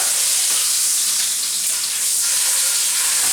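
A porterhouse steak sears in a hot pan with a loud, bright, continuous sizzle and crackle that holds steady the whole time, and no one speaks.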